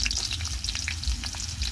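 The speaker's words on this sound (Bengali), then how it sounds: "তেলের উপরে দিয়ে দেবো পেঁয়াজ কাঁচামরিচ," Onion and green chili sizzle and crackle hard in hot oil in a wok. The frying is loud and close, with steady popping spatter and no voices.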